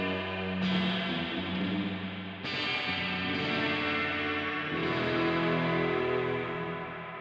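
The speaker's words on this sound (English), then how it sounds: "So that's that modulated plate reverb." Guitar chords through a Chase Bliss CXM 1978 reverb pedal set to a modulated plate, several strummed chords each swelling into a wide, lush wash of reverb that overlaps and lingers.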